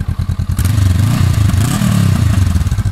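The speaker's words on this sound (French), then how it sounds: "On va écouter le superbe son de l'échappement." Honda CB 500 F twin motorcycle exhaust, close and loud, opening with a chugging idle and moving into a steady, throaty rev with a low pulsing rumble.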